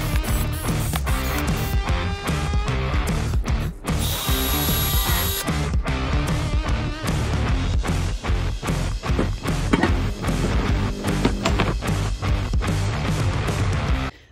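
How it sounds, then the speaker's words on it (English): A power drill runs in short repeated bursts, drilling pilot holes in a small boat seat, whirring up and stopping again and again in a steady stop-start rhythm, close by with no talking. "I'll be drilling the pilot holes"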